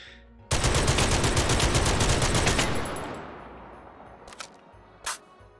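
Sustained rapid automatic gunfire in the VR shooter Hot Dogs, Horseshoes & Hand Grenades, a loud two-second burst of rattling shots that fades into echo, followed by two sharp single clicks or shots.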